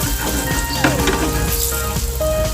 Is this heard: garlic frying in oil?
yes